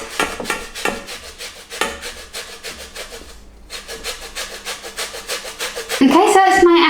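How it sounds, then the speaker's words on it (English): A Bramley apple, peel left on, is grated straight into a pan, giving a run of quick, close rasping strokes in steady rhythm, with a louder burst of other kitchen noise at the end. "So I'm just going to grate it straight into the pan."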